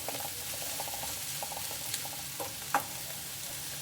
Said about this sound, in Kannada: ಸ್ವಲ್ಪ ಗೋಲ್ಡನ್ ಬ್ರೌನ್ ಬರೋವರೆಗೂ ಫ್ರೈ ಮಾಡ್ಕೊಳ್ಳಿ ಚೆನ್ನಾಗಿ.